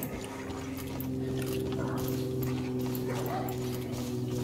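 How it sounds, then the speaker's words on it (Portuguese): A hostile dog in the video game Far Cry: New Dawn barks and yips in quick repeated bursts, close and loud over a dense, constant background of game noise. "Sai, cachorro dos infernos."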